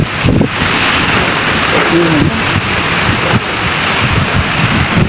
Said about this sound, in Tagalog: Malakas yung ano ng hangin,